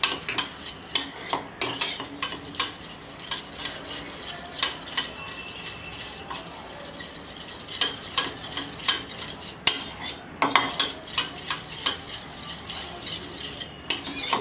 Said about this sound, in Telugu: ఈ విధంగా ఆయిల్ని వేసి మనం కలుపుకుందాం